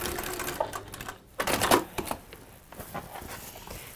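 A sewing machine stitches fabric off at an angle, a fast mechanical rattle at close range that pauses briefly and then resumes in a louder burst.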